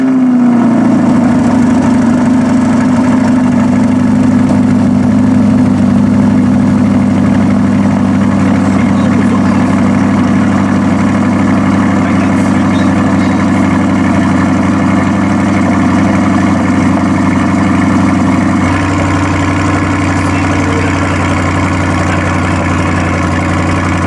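A C8 Corvette idles with its exhaust in Z mode, a loud steady low rumble held close for about twenty seconds, the tone shifting slightly near the end as the valves change.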